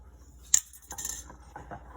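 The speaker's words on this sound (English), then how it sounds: "I'll take this lid off" A lid lifted off a jar of rehydrating sourdough starter, a single sharp clink followed by a brief rattle and soft scraping, close and quiet.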